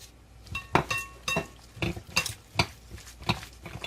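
A spoon stirs and scrapes through chicken shashlik marinade with salt and ground chili in a bowl, making irregular clinking and wet slapping strokes at close range, with no talking.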